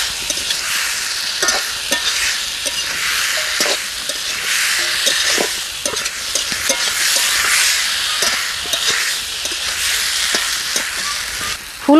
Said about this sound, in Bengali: ফুলকপি আলু মশলা একসাথে খুব সুন্দর করে কষিয়ে নিয়েছি।